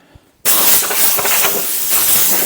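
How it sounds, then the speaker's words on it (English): A sander bites into the rusty underside of a rotten Citroen C1 in a workshop. The harsh, loud hissing grind starts abruptly after a brief quiet moment, then runs steadily. "I'm going to quickly do that with the sander, I think"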